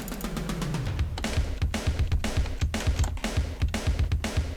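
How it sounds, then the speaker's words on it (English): Drums from a Golden Sun battle theme play on their own: a thumpy, chesty kick driving a quick steady pattern with bright snare and hi-hat-like hits above, opening with a falling low sweep; close and loud. "So drums on their own sound like this."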